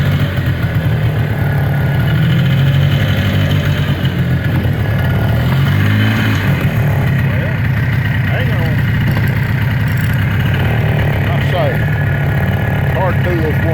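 A Polaris 300 4x4 ATV engine runs steadily at idle with some throttle changes, loud and close throughout, while a person talks over it.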